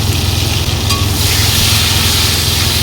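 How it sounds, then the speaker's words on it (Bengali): Koi fish frying in hot oil, giving a loud, steady sizzle that runs unbroken the whole time, close up with no voices. "তেলের মধ্যে ভেজে নেব"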